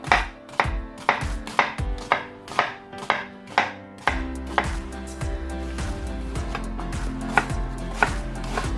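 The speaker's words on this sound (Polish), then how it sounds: "Do farszu potrzebujemy dwie cebule w kost, pokrojone w kostkę." Knife chopping two onions into cubes on a board, steady close rhythmic knocks that speed into a denser, faster patter partway through.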